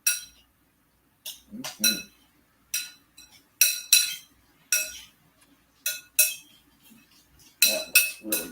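Spoon clinks against a bowl while marinated salad is stirred, a series of bright, separate metallic taps in irregular clusters with quiet gaps between them, and a brief murmur of a voice.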